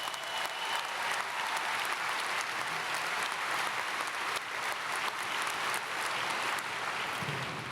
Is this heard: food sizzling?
no